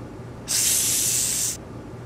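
A snake's hiss from the I Spy Fantasy puzzle game, a single sustained, bright hiss lasting about a second, loud and close, with only faint background between.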